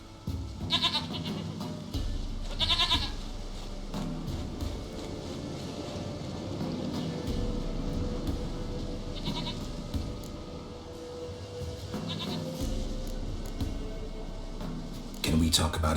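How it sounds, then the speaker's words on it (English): A goat in The Witcher 3 bleats several times in short separate bursts, moderately loud, under a steady bed of game ambience with spoken dialogue between the cries. "Goat of mine! Dearest,"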